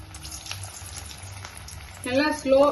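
Paneer balls sizzle in hot oil in a pan as a snack cooks, a soft steady frying hiss with a brief sharper burst and what may be a voice near the end.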